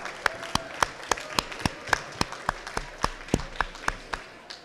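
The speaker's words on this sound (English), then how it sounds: "give them a round of applause for helping us put this event" Sparse, distinct claps ring out in an irregular rhythm, roughly a dozen sharp hits spread over nearly five seconds, as an audience at a City Hall Indigenous Peoples' Day celebration applauds event sponsors.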